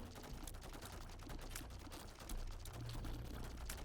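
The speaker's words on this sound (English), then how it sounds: "It literally makes your shots spin as you fire them, look." Rapid spinning shots fire in the video game The Binding of Isaac Repentance, a dense, continuous stream of quick game blasts over steady background music, with no talking.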